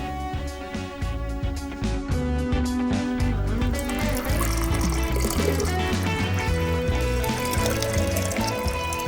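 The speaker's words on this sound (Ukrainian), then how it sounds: "У скляну посудину наливаємо" Water pours steadily into a glass vessel for a children's floating-orange physics demonstration, a continuous filling sound heard under prominent background music with no talking.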